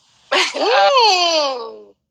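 A single sharp sneeze bursts out, trailing into a drawn-out, wavering vocal tail, close and loud.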